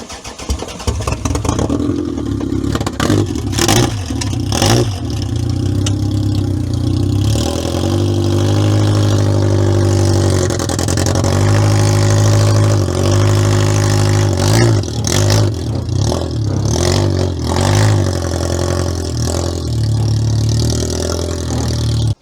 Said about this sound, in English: Oh, it's turning over.